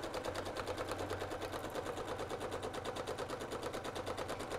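Sewing machine stitching through a quilt during free-motion quilting runs at a steady, fast, even rhythm of needle strokes, close and continuous throughout with no voices.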